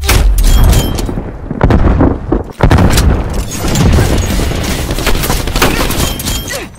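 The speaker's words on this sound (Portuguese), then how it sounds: "Lançando granada de fragmentação." Frag grenade blasts and gunfire in a Call of Duty Black Ops Cold War team deathmatch, loud booming explosions with sharp bursts of shots and brief gaps between them.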